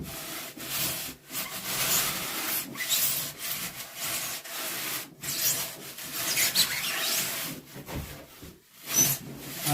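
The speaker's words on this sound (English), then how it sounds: "I got me a little saw. This is good for like foam and stuff." A small hand saw cuts through foam for a carved crappie fish body, making a continuous rasping, rubbing stroke pattern that is close and fairly loud. Brief pauses separate the strokes. No voices are heard.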